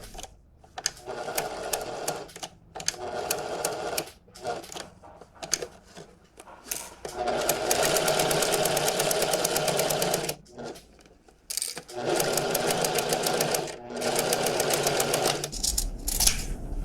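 A sewing machine runs in short stop-start bursts, then longer steady stretches of rapid stitching, while a waistcoat seam is eased around a curve a few stitches at a time; close and fairly loud, with no talk.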